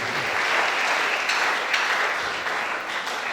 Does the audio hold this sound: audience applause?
yes